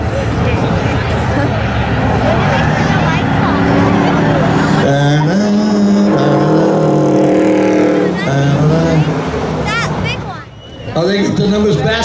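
Pickup truck with an automatic transmission, shifted out of low by hand, drag racing at a Beech Ridge spectator drag event; loud, sustained engine roar rises and falls over about twelve seconds amid crowd babble.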